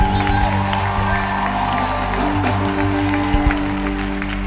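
A church congregation at a pastor's service cheers and applauds in acclamation of Jesus: scattered claps and crowd shouts rise over steady sustained musical tones, loud and continuous.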